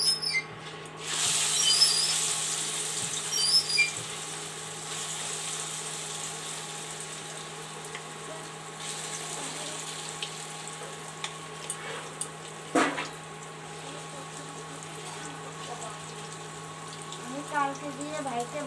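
Food going into hot oil in a wok, a bright hiss and sizzle that flares loudly at first and then settles into a lower, steady frying crackle, with occasional clinks and scrapes.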